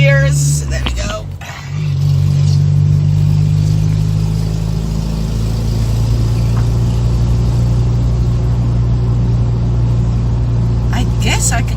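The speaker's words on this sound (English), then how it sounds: "Let me do some shifting gears." A car engine drones steadily while driving through a neighborhood. Engine pitch changes around a gear shift early on, then settles into an even, close rumble.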